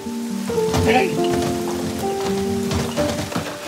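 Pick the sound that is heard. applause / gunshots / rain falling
rain falling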